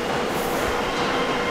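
Steady rumbling rail noise of a train at Cardiff Central station, broadband and continuous, with a faint metallic hiss throughout and no voices.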